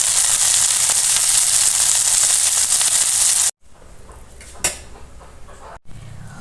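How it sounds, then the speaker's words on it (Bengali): Home-grown eggplant with chili and onion fries in a pan, giving a loud, steady sizzling hiss for several seconds that then cuts away to quieter kitchen sound with a brief utensil clink. "তো দর্শক আমার গাছের বেগুন ভাজা কিন্তু হয়ে গেছে"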